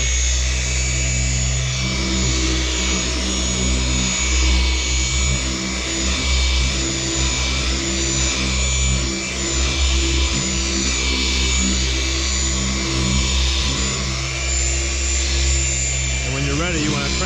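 Car polisher running at low speed while spreading polish cream over a car's paint during paint correction, a steady continuous motor hum with some underlying rumble throughout.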